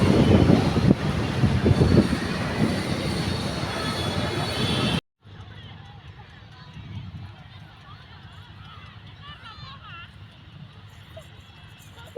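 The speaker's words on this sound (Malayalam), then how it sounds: "ആ ഒരു സമയത്ത് മെട്രോ തലങ്ങും വിലങ്ങും പോകുന്നുണ്ടായിരുന്നു കേട്ടോ." A metro train runs along its track, a loud rumbling roar for about five seconds that then cuts off abruptly, followed by quieter ambient noise.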